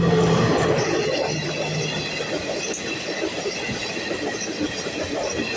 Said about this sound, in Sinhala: ඔන්න මේ වෙලාවෙම මේ හරහා අපිට දුම්රියක් ගමන් කරන එකත් අපි බලාගෙනම